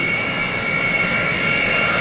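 A C-5A Galaxy jet transport at the 2003 New York International Airshow roars steadily overhead under full power as it climbs away, a loud, continuous broadband engine rumble with a sustained whine.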